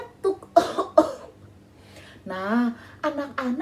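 A few sharp coughs burst out early, then a voice talks over quiet room tone.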